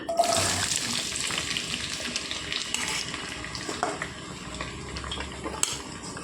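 Onions and green chillies fry in a pan for a drumstick and tomato curry, giving a steady, fairly loud hiss throughout with a few faint clinks and no voices.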